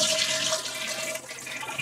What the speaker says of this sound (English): So we'll flush it.